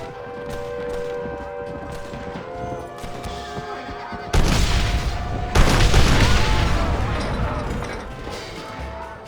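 Cannon blasts and gunfire from a frontier shootout in the video game Red Dead Redemption, with two heavy booms and crashes arriving midway over a busy battle bed, a horse whinnying and shouting voices nearby.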